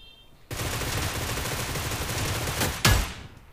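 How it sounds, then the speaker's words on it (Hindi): Sustained rapid gunfire in the mobile shooter game New State roars as one dense burst for about two seconds, ending with a sharper single crack before fading. "फिर मेरे पे फायर आया"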